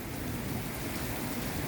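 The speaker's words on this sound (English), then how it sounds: "When it thunders here," Heavy rain pours steadily on Flores Island, Indonesia, with a low thunder rumble underneath. The whole short stretch is a dense, loud, unbroken wash with no talking.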